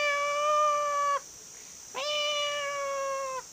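A cat gives two long, steady, drawn-out meows separated by a short pause, loud and close with no talking.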